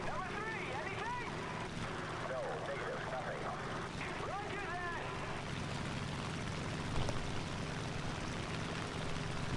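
A propeller aircraft cruising at about 400 mph in the combat flight game War Thunder, giving a steady droning engine hum throughout, with someone talking over it.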